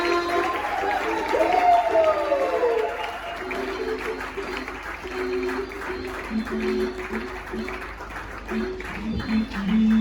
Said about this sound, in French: les encourager avec des acclamations,